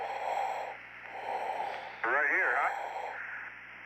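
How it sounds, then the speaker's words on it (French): Amplified breathing over a radio link in an Apollo 17 moonwalk simulation: slow, rhythmic breaths repeat with a hissy, band-limited radio tone and one louder, wheezy breath midway. "ce bruit de respiration est pénible. Malheureusement, il fait partie de la simulation."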